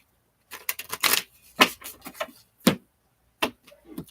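Tarot cards shuffled by hand in short separate bursts, crisp riffling flicks with brief pauses between them, close and fairly loud.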